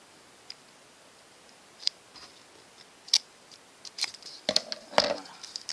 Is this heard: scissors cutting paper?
yes